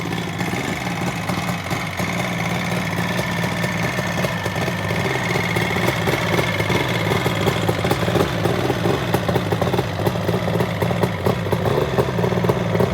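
A 1975 Kawasaki H2 750cc motorcycle engine runs steadily with loud aftermarket silencers, giving a continuous, close, throbbing drone with a ragged two-stroke clatter and no speech over it.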